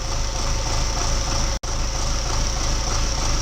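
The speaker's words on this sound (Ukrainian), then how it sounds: "Все, трактор працює" An MTZ-82.1 tractor's diesel engine idles steadily nearby at -15°C after a hard cold start, with a low, continuous rumble and a brief dropout in the middle.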